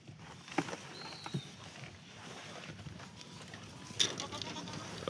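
Goats in a pen bleat a few scattered times over a steady murmur of outdoor background noise, with one louder, sharper call near the end and no clear talk.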